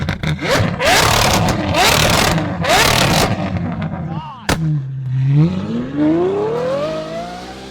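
A loud, high-revving naturally aspirated 6.5-liter V12 Ferrari 812 with a custom exhaust screams through several sharp bursts, then a sudden crack before it settles into a rising, climbing roar.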